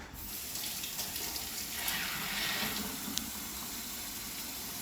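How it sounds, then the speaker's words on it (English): Hands are washed under a running tap at a sink, with a steady rush of water that splashes and shifts as hands move through the stream, close by and with no speech. "The first step is wash your hands for 20 seconds."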